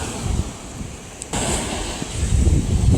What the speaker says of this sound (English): It is windy out here. I think it's evident in the ocean waves.